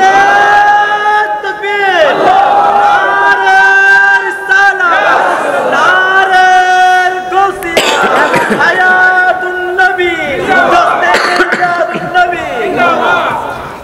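A large crowd at a religious gathering shouts back in unison after a call for takbir, loud and close, with repeated chant phrases rising and falling.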